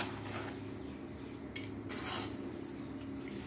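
A spoon stirs hot cooked rice into a lemon rice mixture in a pan, giving soft scraping and clinking over a low steady sizzle, with one brighter scrape near the middle.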